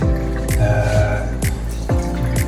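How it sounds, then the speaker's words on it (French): Water drips and trickles during a gentle rinse, with a continuous wet flow close by and three distinct heavier splashes at regular intervals. "Je rince doucement."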